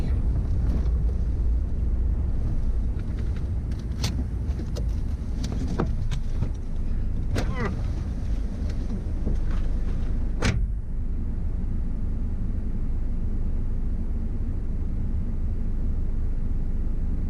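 A four-wheel-drive vehicle drives along a dirt road by an emu fence, with a steady loud engine and road rumble throughout. Scattered rattles and knocks from the cabin and chassis come through during the first ten seconds.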